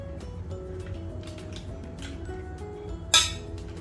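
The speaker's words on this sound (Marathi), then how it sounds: "आणि थोडेसे बर्फाचे तुकडे घालते." Ice cubes drop into gooseberry (amla) juice flavoured with cumin powder: one sharp glassy clink near the end, after a quiet stretch of low background hum.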